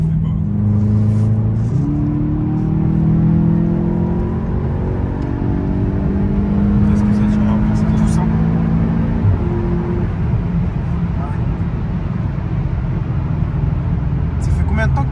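A car with an inline six-cylinder engine accelerates hard, its steady, loud engine note climbing in pitch through the gears for the whole stretch, with voices faintly under it.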